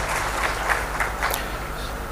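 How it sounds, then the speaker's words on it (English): Audience at an AI healthcare summit applauding, a steady wash of clapping from many hands with a few sharper individual claps, no talk over it. "big round of applause please."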